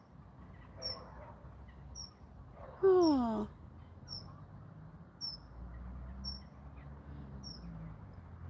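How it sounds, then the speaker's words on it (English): A bird calls outside in a garden, giving short high chirps at a steady, regular pace, moderately distant. A person makes one brief exclamation partway through. "Look, listen to the bird."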